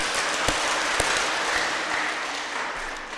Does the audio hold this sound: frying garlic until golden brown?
no